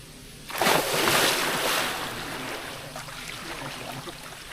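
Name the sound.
people jumping into pool water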